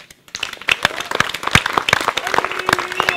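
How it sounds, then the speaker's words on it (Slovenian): A small audience at an outdoor opening event claps in a lively burst, rising quickly from silence into sharp, dense hand claps that carry on to the end, close and fairly loud, with a few voices faintly under it. "z Boštjanom in pa tudi Istokom zasluži en velik aplavz."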